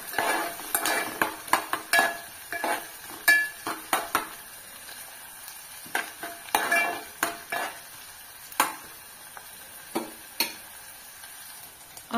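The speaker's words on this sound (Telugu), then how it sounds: "ఆనియన్స్ ఫ్రై అవుతున్నాయి కదా" Onions fry in a pan for a small bitter gourd curry, with a steady soft sizzle and repeated sharp scrapes and clinks of a spatula stirring against the pan. The stirring is close and uneven, and no one speaks.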